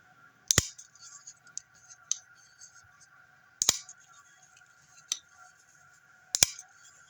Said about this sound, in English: It's got a little bit of a click when you engage the blade